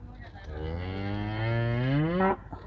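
A cow lets out one long, loud, close moo of about two seconds that swells and then cuts off sharply, with no other sound around it.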